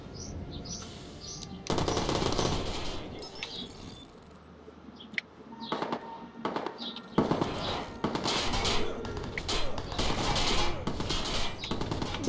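Bursts of enemy automatic gunfire in Watch Dogs, sharp rapid volleys arriving in clustered bursts with short quiet gaps between them, loud and close.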